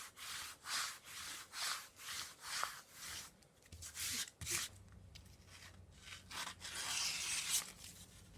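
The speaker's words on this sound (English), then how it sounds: "And I'm going to slowly begin squeegeeing this down." A squeegee pressed across a vinyl decal in slow, smooth left and right passes, giving faint rhythmic rubbing swipes, about eight strokes in steady succession with a quieter pause midway.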